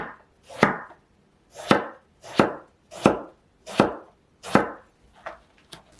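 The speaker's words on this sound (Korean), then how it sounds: "가지도 동그란 모양으로 써시고요." A knife slices eggplant into rounds on a cutting board, six crisp chops at a steady, unhurried pace, close and clear with no talking.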